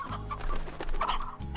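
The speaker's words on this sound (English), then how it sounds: "Grab some more chickens because that's always what we're doing in this game, is gather chickens" Chickens cluck in the video game Slime Rancher, a busy run of close, overlapping clucks over a low steady game hum.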